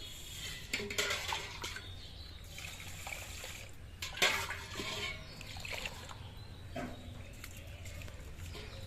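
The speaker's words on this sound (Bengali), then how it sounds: "এদিকে আমি চালটা ধুয়ে নিচ্ছি" Rice is washed in water by hand, with soft sloshing and trickling pours at close range, a couple of louder splashes standing out against quiet background.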